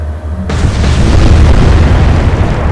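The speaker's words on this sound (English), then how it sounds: "Here come the torpedoes." A torpedo detonates in the naval video game Atlantic Fleet: a sudden, very loud, deep boom that swells into a sustained roaring rumble and keeps going to the end.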